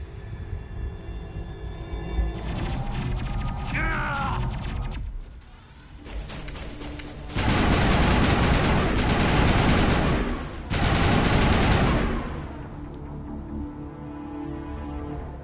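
Assault rifle fire in the video game Mass Effect, with long loud sustained bursts of automatic shooting separated by quieter stretches of game ambience and a dip into near silence.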